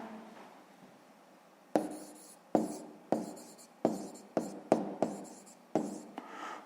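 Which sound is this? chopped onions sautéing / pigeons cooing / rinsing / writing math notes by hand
writing math notes by hand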